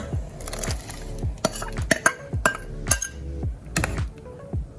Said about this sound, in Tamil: சுடு தண்ணி கொதிச்சிருச்சு இப்போ அதில் போடுவோம்